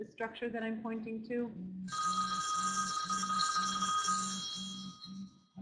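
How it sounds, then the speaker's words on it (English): A telephone rings during an outdoor biodiversity teach-in: someone speaks briefly, then a steady run of repeated electronic rings with a bright, sustained tone carries on, loud and close. "Sorry about the phone interruption."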